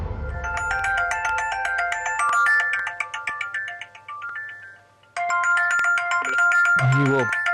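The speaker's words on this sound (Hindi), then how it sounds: "वो रिश्ते वालों का फोन आ रहा है" A mobile phone rings with an incoming call from a prospective marriage match's family, its bright melodic ringtone looping loudly, cutting off briefly, then starting again with a short low murmur near the end.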